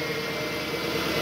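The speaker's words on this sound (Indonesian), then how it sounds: "Sekarang kita hidupkan mesinnya." A Toyota Harrier's 2AZ engine, just fitted with a new tensioner and balancer shaft, idles with a steady dense hum and vibration.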